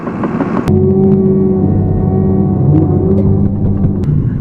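A bulldozer engine runs steadily close by in a logging area, a loud low rumble with a sharper onset early on and a constant droning hum throughout, no talk over it.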